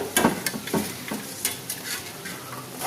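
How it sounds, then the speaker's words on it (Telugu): Boiled noodles are tossed into a vegetable mixture in a pan, with a soft sizzle beneath repeated scraping and clinking stirs at an irregular pace, close by. "ఉడకబెట్టుకున్న నూడిల్స్ దాంట్లో వేసి కలపాలి"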